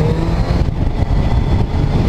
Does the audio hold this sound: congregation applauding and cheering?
no